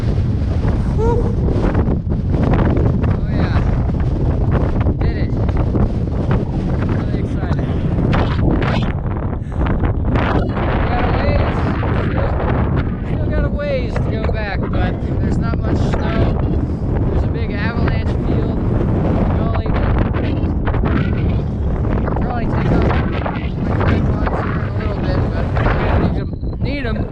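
Strong wind roars and buffets continuously across the microphone on a mountain ridge, loud and gusty with no pauses.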